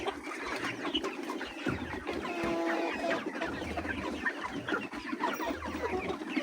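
A flock of laying hens in a poultry house clucks continuously, close and moderately loud, with overlapping murmurs and calls rising and falling from many birds at once.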